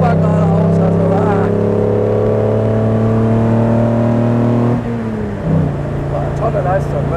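A 1956 Mercedes 300 SL Gullwing with sidepipes roars at high revs in a loud, sustained engine tone that drops sharply near the end as the car eases off.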